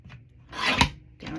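Short scraping cuts as craft material is trimmed for a Halloween craft, a few brief close rasping strokes with a louder stroke in the middle and no talking.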